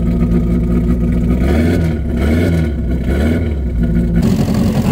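Car engine revving loudly through a side-exit exhaust at an outdoor car meet in Subic, with a steady deep droning rumble and pitch swells, close and continuous throughout.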